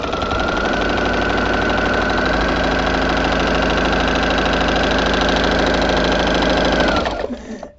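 A sewing machine fitted with a walking foot runs quilting straight channels, a fast steady mechanical whir and needle chatter lasting about seven seconds before stopping abruptly, close and loud with no talking.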